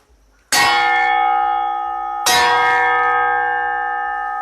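A struck steel blade from a fodder chaff cutter rings out twice, each strike a sharp bell-like clang with a long sustained metallic tone that slowly fades, no voices.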